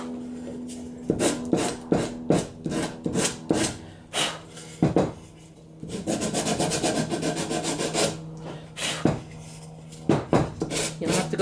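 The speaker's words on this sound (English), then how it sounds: "A little bit of glue on there. Just sand that off." A wooden trivet being sanded by hand to remove leftover glue, with close, repeated rasping strokes in an uneven rhythm and a faster continuous stretch of scrubbing midway.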